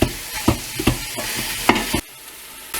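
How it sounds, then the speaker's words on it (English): Beef browning and being stirred in a pan for stew, with scraping stir strokes over a steady sizzle, several distinct spoon scrapes before the sizzle drops suddenly quieter near the end. "we're gonna let this sit and saute for about 5 minutes. And just keep stirring it occasionally"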